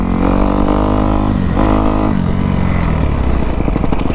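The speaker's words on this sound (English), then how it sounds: "His bike sounds so good." A dirt bike engine, a Kawasaki KX250F or Suzuki RM125, revs on a muddy trail ride. It rumbles loud and close and steady, with throttle swells and a dip near the middle.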